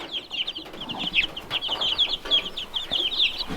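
Young chicks that are feathering out peep and cluck continuously nearby, a busy chorus of high chirps overlapping with soft rustling throughout.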